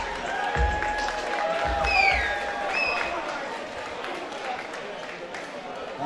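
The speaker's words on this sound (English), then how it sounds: "big round of applause for these two fighters" Crowd applause and scattered cheering for two fighters at a combat event, a moderate steady wash of clapping with whistles and a few low thumps, under a speaking voice.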